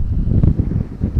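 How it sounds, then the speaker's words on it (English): Gusty wind beside a drained lake dam buffets the microphone in low, uneven rumbling bursts, close and loud across the whole short stretch, with no voices. "A little bit windy."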